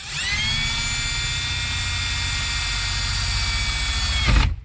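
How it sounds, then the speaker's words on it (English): Power drill boring a hole inside a B8 Audi A4 during a boost gauge install, a loud steady high-pitched whine running for about four seconds before winding down abruptly. "let's drill a hole somewhere in here"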